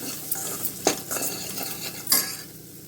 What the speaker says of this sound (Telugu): ఇది కూడా 1 నిమిషం కలపండి.